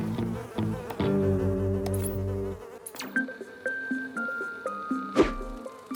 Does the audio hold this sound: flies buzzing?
yes